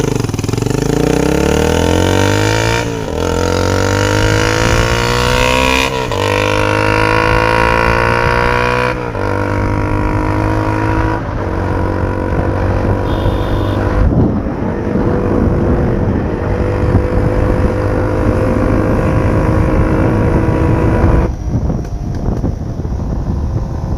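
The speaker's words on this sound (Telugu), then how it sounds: "సో బండి అయితే ఫైనల్గా స్టార్ట్ చేసినాం." A motorcycle runs loud and close, its engine pitch climbing and dropping through repeated rising pulls, with heavy wind buffeting throughout.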